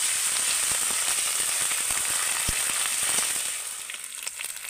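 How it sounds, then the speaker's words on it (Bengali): Chopped tomato and ginger paste frying in hot oil, a loud even crackling sizzle with sharp pops that eases off and thins out near the end. "এগুলোকে তেলের সাথে ভালো করে ভেজে নেব।"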